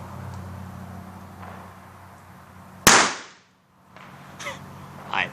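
A single New Year's firework bursts with one sharp, loud crack midway, followed by a fading tail and a couple of fainter pops afterward.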